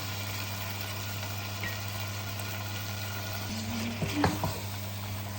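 Marinated chicken for an Arabic-style saluna fries in a pan with a constant sizzle over a low steady hum, then a louder burst of spattering and clattering as more pieces go in.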